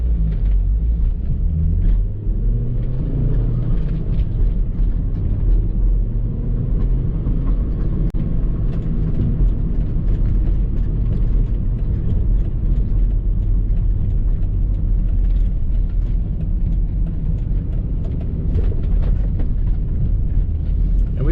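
A Volvo V70R all-wheel-drive wagon driving in sport mode, its engine and road noise making a continuous loud low rumble heard from inside the cabin throughout.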